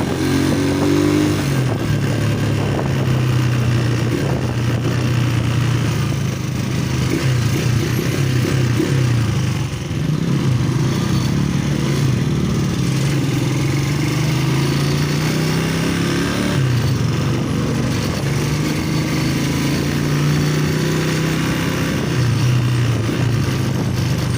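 A motorcycle engine drones loudly and continuously during a ride, a steady low rumble with slight rises and dips in pitch as the bike moves along, mixed with wind noise and no speech.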